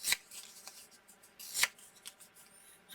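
Scissors cutting orange paper for a strip border, two or three crisp close snips with light paper rustling between them.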